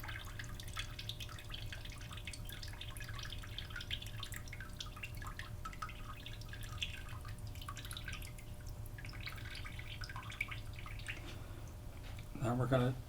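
Water drains and drips from a paper-making mold holding wet pulp, a soft continuous trickle and patter close by with a low background hum.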